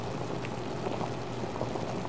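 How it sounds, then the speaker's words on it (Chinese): Broth bubbling at a rolling boil in a Chuan Ma Po skewer hotpot, a continuous close fizz and pop of bursting bubbles, heard alone without any voices. "穿麻婆串串香锅底沸腾的声音"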